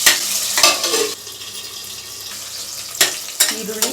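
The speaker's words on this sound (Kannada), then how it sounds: "ಈರುಳ್ಳಿ ಕೆಂಪಗಾಗೋವರೆಗೂ ಬೇರೆ ಏನು ಹಾಕಬಾರ್ದು." Chopped onions sizzle and fry in hot oil until browned for methi bath, a steady close hiss broken by a few louder bursts of stirring and scraping, with no talking.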